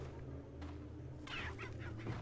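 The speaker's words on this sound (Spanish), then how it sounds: "Gallina." Chicken clucking in Resident Evil 4, a short run of clucks rising midway over a steady low game hum, fairly close.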